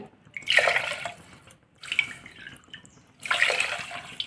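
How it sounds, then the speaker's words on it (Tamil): Water is poured into a pot for millet and coconut milk porridge in three separate splashing pours, each lasting about a second, with short pauses and light drips between them, heard close up. "இன்னும் மூணு கப்பு வந்து நம்ம தண்ணி சேர்த்துக்கலாம்"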